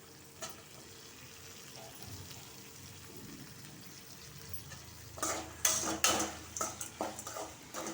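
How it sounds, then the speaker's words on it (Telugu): Visirikayalu being fried in a pan with fenugreek seeds for pachadi: a quiet low sizzle at first, then a spoon stirring and scraping the pan in a run of clattering knocks. "ఇప్పుడే విసిరికాయలు వేసేసి వేచాలి బాగా."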